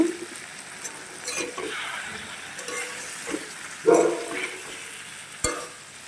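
Potatoes and flat beans fry and get stirred in a pan with black cumin and green chili paste, giving a soft sizzle with scattered scraping and clinking strokes, including a sharper knock near the end, and no talk.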